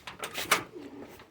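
Pigeons at a pigeon show give soft, close calls in a short burst of a few notes, with one sharper call near the middle.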